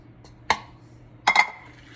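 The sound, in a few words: mixing cookie batter with sugar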